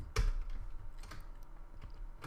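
A few clicks and taps on a computer keyboard while entering code for a beginner C DirectX game, close and moderately loud with a sharp first keystroke and softer scattered presses after.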